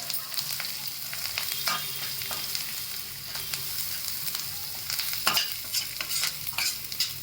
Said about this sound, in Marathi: छान परतून घ्यायचं असं अद्रक लसूणचा कच्चापणा गेला